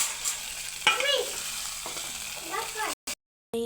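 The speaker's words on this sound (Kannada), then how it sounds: "ಹಾಕಿ ಚೆನ್ನಾಗಿ ಮಿಕ್ಸ್ ಮಾಡಿಕೊಳ್ಳಬೇಕು" Cooked pundi palya, a North Karnataka greens dish, being stirred in oil in a pan, with soft scraping strokes over a steady sizzle that breaks off briefly near the end.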